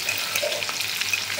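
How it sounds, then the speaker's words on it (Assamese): Okra coated in turmeric and rice flour fries in hot oil with a steady close crackling sizzle, broken by a few light stirring scrapes. "এয়া ভেন্দিকেইটাতে মই ফ্ৰাই কৰি লওঁ"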